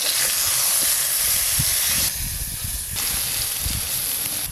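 Eggplant slices sizzle in hot oil in an uncovered pan, giving a loud, steady hiss that drops briefly and comes back, with a few faint clinks underneath.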